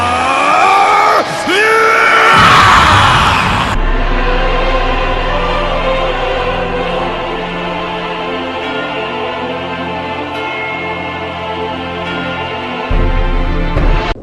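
Goku and Vegeta scream as they power up, a loud, strained yell in the opening seconds that gives way to a sustained roaring energy rumble.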